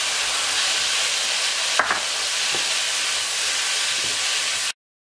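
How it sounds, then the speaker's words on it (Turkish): Mushrooms, peppers and onions sizzling in a frying pan for a vegetarian karnıyarık, a steady close hiss of frying with a few soft stirring clicks, ending abruptly. "Gördüğünüz gibi mantarlarım da kızarmaya başladılar"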